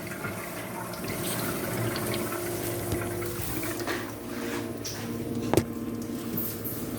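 A manual endoscope pre-cleaning setup pumps water and air through the scope to purge it, a steady rushing and gurgling flow with a sharp click near the end.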